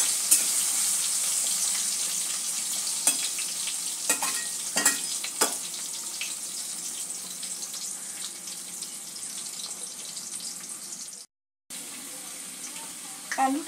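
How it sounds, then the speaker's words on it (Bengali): Cut potatoes sizzle steadily in hot oil in a home kitchen pan, with a constant bright hiss broken by a few stirring scrapes and a brief dropout. "আলুটা 2-1 মিনিট একটু ভেজে নেব"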